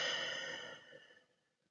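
A single soft, slow exhale of breath, close and quiet, fading out over about a second, with no voices.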